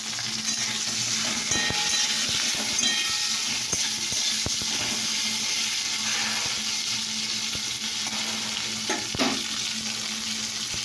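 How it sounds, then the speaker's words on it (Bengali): Oil sizzling steadily in a pan with turmeric and salt added, a constant close hiss and crackle of frying with occasional soft stirring clicks and no talk. "ভাজা হচ্ছে"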